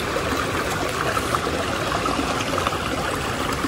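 Small mountain brook trout creek flows in a steady, even wash and trickle of water, close and constant throughout with no voices.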